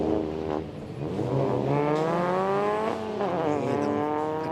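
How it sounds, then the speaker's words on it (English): Junior TCR UK touring race cars accelerate hard off the final corner at Snetterton, a loud, close engine note whose pitch climbs through the gears for several seconds with no talk. "Accelerating off the final corner. They make a really nice noise, actually, these junior cars."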